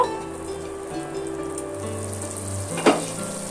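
Potatoes for aloo dopeyaza sauté in a covered pan, a faint steady frying hiss under a humming tonal background, with one brief clink near the end.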